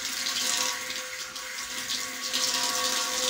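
Fenugreek leaves being washed under a running kitchen tap, a steady close hiss of flowing water splashing continuously with no voices.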